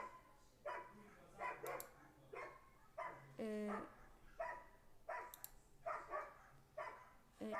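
A dog outdoors barks repeatedly at a distance in short irregular bursts, with one higher yelping whine midway; faint and somewhat muffled, heard from inside.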